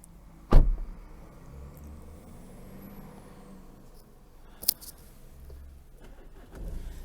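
A BMW 420d Gran Coupe M Sport automatic starts with the keyless system: a sharp click, then a low, steady diesel idle rumbles quietly inside the cabin, with a faint later tap.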